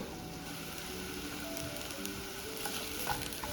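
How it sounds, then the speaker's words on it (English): Half an onion frying in hot oil in a pan for an onion omelette, a faint steady crackling sizzle with light pops, no talking. "You can slowly hear the sizzle."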